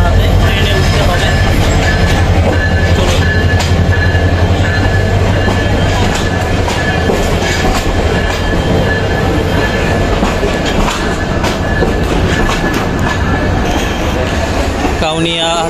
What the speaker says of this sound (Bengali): ট্রেন প্রবেশ করলো